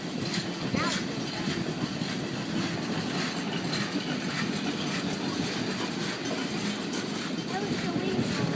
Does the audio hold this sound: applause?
no